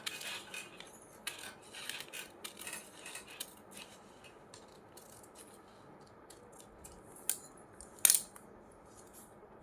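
Scissors cut along a marked paper pattern with quiet, irregular snips and paper rustles, then a sharper click near the end, close by with no talking.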